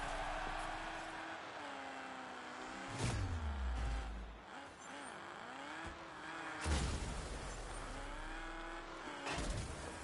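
Heavy game vehicles roar and skid in a Destruction All-Stars arena as a big truck drives in, with engine drones rising and falling, tire squeals and loud crash bursts near 3, 7 and 9 seconds.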